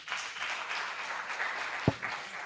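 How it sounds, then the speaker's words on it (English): Conference audience applauding a team presentation, a short steady wash of clapping at moderate distance with one sharp nearby clap standing out. "another round of applause for CFI services."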